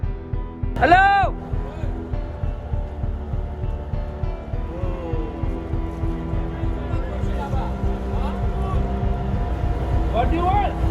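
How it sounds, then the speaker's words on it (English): A boat draws closer across open Atlantic water at night, its motor a steady low drone running the whole time beneath excited voices calling out. "Boat coming, boat!"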